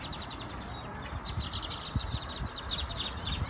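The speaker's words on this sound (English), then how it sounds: "Look at all these birds." A large flock of birds chirps and twitters together outdoors, a dense continuous chatter of high calls at moderate distance, with some low thumps and wind noise underneath.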